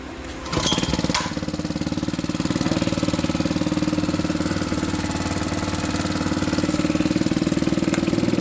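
A petrol engine on a construction-site air compressor starts after a couple of knocks and settles into a loud, steady, rapidly pulsing idle that runs close by without a break.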